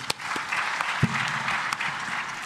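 An academic conference audience on African borderlands security claps in a short, steady round of applause, close and fairly loud, with a few sharper claps standing out.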